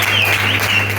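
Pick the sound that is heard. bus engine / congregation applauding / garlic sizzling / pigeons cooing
congregation applauding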